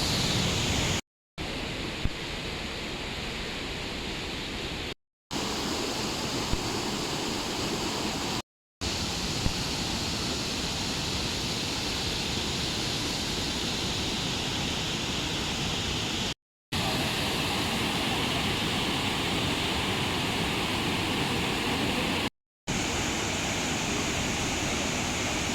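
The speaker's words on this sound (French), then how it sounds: "Là, il y a une cascade." A waterfall beside a mountain road in Vietnam sends up a steady, dense rushing roar, close and loud, broken only by a few abrupt momentary cuts.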